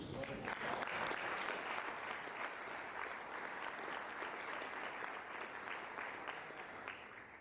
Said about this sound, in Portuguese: eu vou mandar você aplaudir Jesus